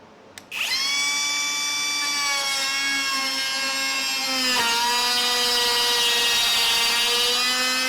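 A RIDGID OCTANE cordless router spins up with a sharp start and holds a steady, loud high-pitched whine while plunging into a straight cut, the tone dipping slightly and strengthening midway as it bites.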